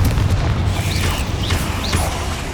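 Spells cast in Hogwarts Legacy, including Bombarda and Confringo blasts, give a steady low rumble with three short rising whooshes spaced about half a second apart, close and fairly loud with no talk.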